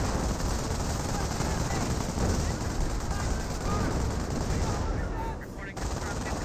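Artillery and gunfire from a forward 25 pounder field gun in Company of Heroes, dense continuous battle noise with repeated blasts and crackling fire throughout, loud and busy with no clear gaps.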